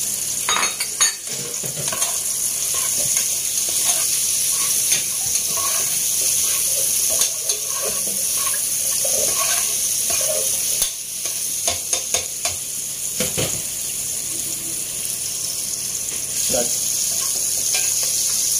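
Onions, garlic, ginger and lemongrass sizzle in a hot pan for chicken tinola, with a steady frying hiss and intermittent clinks and scrapes of a stirring utensil throughout.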